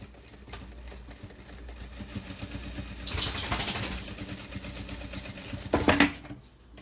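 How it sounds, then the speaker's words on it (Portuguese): A sewing machine stitches a hem in a garment, running in a steady mechanical whir at moderate level, then in two louder bursts of faster stitching near the middle and end. "voltamos aqui pra nossa amiga máquina de costura. Vamos fazer aqui, então, um pezinho de máquina pra fechar a bainha"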